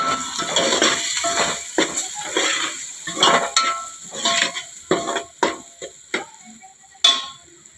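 Turmeric, red chilli powder and cumin stirred into a pan, a rhythmic series of close spoon scrapes and clinks against metal with a light sizzle between strokes, no voices.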